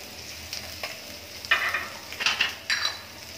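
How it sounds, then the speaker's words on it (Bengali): Ginger garlic paste going into onions already fried in a pan for a tatkini fish and tomato curry, giving soft sizzling and a few louder scraping stirs and pasty plops, close by with no talking. "পেঁয়াজটা আমার ভাজা হয়ে গেছে, আমি আদা রসুন বাটা দিয়ে দিচ্ছি।"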